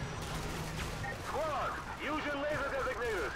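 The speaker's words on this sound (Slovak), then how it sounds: "Tak strieľam" Gunfire in Call of Duty: Modern Warfare 2 on easy difficulty, dense rapid bursts and shots rolling over a busy game soundscape, loud and continuous with whistling tones layered on top.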